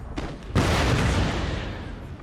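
A video-game cannon fires canister shot at charging infantry: a sudden loud booming blast that rolls into a sustained roar of scattering shot, close and dense.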